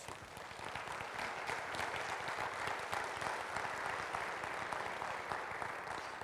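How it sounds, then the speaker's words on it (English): At a Madison community facility meeting, an audience claps steadily for the staff, a continuous fairly distant patter of many hands that holds at an even level throughout. "I would really like for you to help me give this staff a round of applause."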